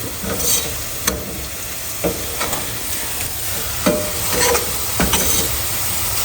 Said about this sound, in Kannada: ಅರಿಶಿನ ಪುಡಿ ಹಾಕಿ ಮಿಕ್ಸ್ ಮಾಡಿ